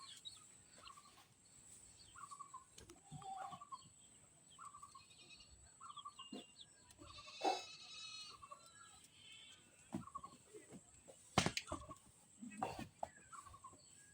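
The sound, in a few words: goat bleating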